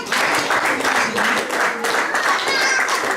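A church congregation applauds in acclamation of God during a French-language service, a short burst of steady clapping with scattered voices mixed in.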